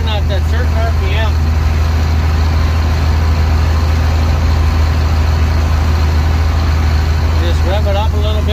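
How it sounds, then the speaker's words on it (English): A White 2-105 tractor engine runs steadily and loud while powering a Case 8465T round baler, a constant low droning hum filling the whole stretch with a slight rise in revs, faint voices breaking through briefly. "Just rev it up a little bit so it gets past that."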